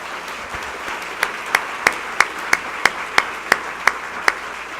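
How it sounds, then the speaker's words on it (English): Applause greets a 2015 Adult Volunteer Award winner at a healthcare champions event: about a dozen crisp, evenly spaced claps build from faint to moderately loud, sounding like a thin, slow round of clapping rather than a full crowd. "Please give a huge round of applause to Brenda Gatcomb, our 2015 Adult Volunteer Award winner."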